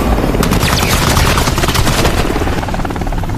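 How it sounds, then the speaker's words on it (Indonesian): Machine gun fire from a film scene about stopping a nuclear bomb explosion, a loud, dense, continuous rattle of rapid shots over a heavy roaring background. "berondongan peluru berhasil menghancurkan tubuh Ocelot dan membuatnya mati dengan cara mengenaskan."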